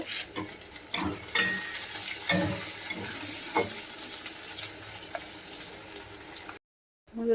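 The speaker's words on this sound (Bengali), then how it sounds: "পেঁয়াজগুলোকে একটু লাল লাল উপর ভেজে নেব" Chopped onions fry in a pan over medium-high flame, a continuous hiss of oil punctuated by several spoon scrapes and knocks, then a short cut to silence.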